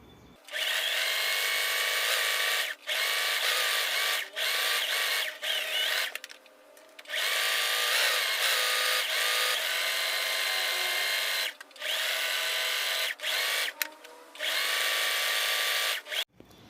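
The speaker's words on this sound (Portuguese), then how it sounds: "eu vou dar um acabamento em zigue-zague nele todo" Sewing machine zigzag-stitching along terry cloth in long steady whirring runs, loud and close, stopping briefly between bursts.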